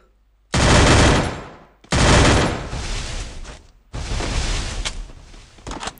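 Rapid gunfire from the PC battle game Free Fire in a Clash Squad match, loud bursts of automatic fire in three long sustained volleys with brief gaps, close and dominant.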